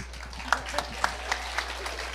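A few sparse, scattered claps from a small audience at a campus safety and hygiene presentation, landing about every quarter second over a quiet room hum.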